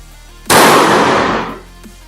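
A single sharp report from a Monel Big Game Evolution mini PCP air rifle at 3500 psi, loud and close, with a burst that trails off over about a second.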